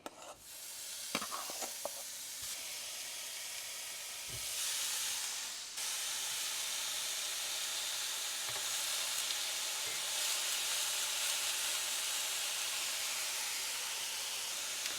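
Hamburger patties sear in a hot pan, giving a steady, loud broadband sizzle and hiss that fills the whole stretch, with a few brief clatters near the start and a momentary surge midway, no voices.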